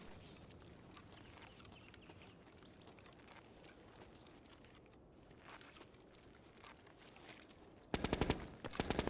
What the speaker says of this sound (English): So I hear the guns firing